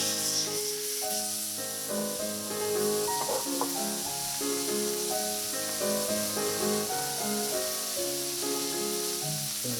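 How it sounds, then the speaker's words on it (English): Sous vide pork chops sear in oil in a hot pan, giving a steady, even sizzling hiss that runs the whole time beneath prominent background music. "Just gonna add a little bit of oil, and then add the meat"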